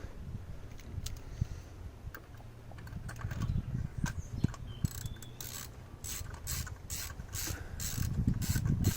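A socket ratchet turning new iridium spark plugs into the engine of a Mini Cooper R50, fine rapid clicking that runs steadily and grows into sharp close ratchet bursts toward the end, with no voices.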